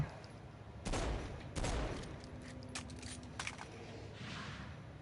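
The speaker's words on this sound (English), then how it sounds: "leaving it vulnerable to gunfire" Several sharp gunshots from a video game crack out in quick bursts over a steady electronic background hum, with scattered lighter pops afterward.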